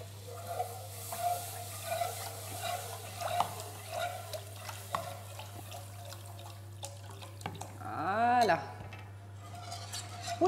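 Milk is poured bit by bit into a butter and flour roux while it is stirred, a soft liquid pour and faint scraping under a steady low hum, with a louder watery gurgle near the end.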